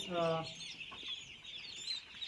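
Chickens on a poultry farm, herded to one side for injections, cluck in a short burst at the start, followed by faint scattered bird calls against steady high-pitched barn noise.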